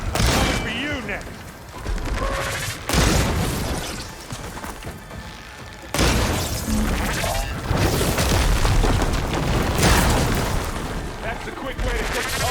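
Supporting gunfire and blasts in Horizon Forbidden West, a dense barrage of shots and booms running continuously through the scene, loud and close, with game characters talking over the battle.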